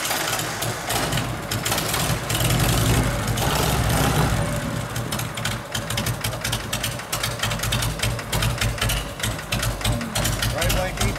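A 1984 Harley-Davidson FLHX motorcycle engine running with a loud, uneven low rumble and rapid pulsing firing beats throughout, close by, with a voice talking over it early on.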